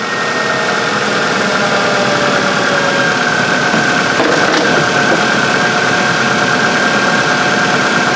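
A 2000 Ford Focus engine idles steadily during a transmission fluid change, a loud, constant drone with a faint whine and no voices.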